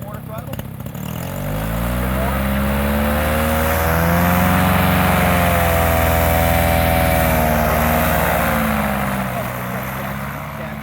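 A powered paraglider's engine and propeller at quarter throttle during ground training in Florida, a loud, steady buzzing drone that swells slightly in pitch and volume and then eases off, heard up close.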